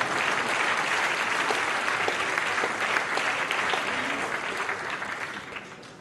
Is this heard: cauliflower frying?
no